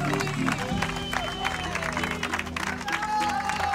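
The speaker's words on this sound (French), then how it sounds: "le public l'acclame, comme tous ceux qui arrivent jusqu'ici" Spectators at the finish line of an ultra trail race clap and cheer for an arriving runner, a continuous dense applause with crowd noise, fairly close and loud throughout.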